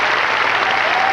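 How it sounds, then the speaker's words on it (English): Theater audience in the Vivian Beaumont Theater at Lincoln Center applauding the cast's bows after The Comedy of Errors, a steady, loud, dense wash of clapping. "bowing to the applause of the audience assembled here in the Vivian Beaumont Theater"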